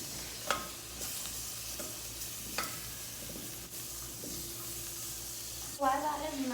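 Butter melting in a pot gives a soft, steady low sizzle with a few faint knocks, then a louder burst of frying near the end.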